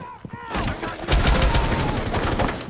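A high-damage scoped weapon fires a rapid, spammed burst in Rainbow Six Siege. After a brief quiet lead-in, loud, dense gunfire runs to the end.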